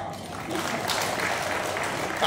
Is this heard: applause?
yes